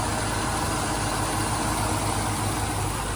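A 1927 Bugatti Type 35 replica engine idles with a constant low rumble, close by and unchanging throughout.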